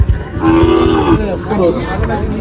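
A single loud, close cow moo, drawn out and low, with faint background bustle at a cattle market in Faridpur.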